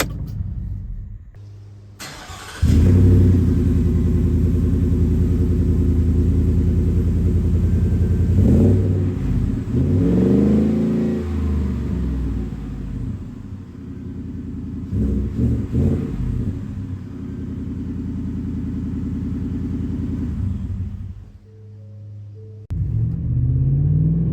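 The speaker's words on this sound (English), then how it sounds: "let's do a cold start outside" A 2024 Ford F-150 single cab pickup with an MBRP S5211 cat-back exhaust cold starts outside: it cranks and catches, then settles into a loud, deep rumbling idle with a few throaty revs before shutting off.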